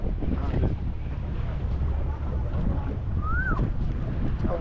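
A speed boat on tour waters near Koh Nangyuan gives a steady low engine and water rumble, with heavy wind buffeting the microphone and faint voices underneath.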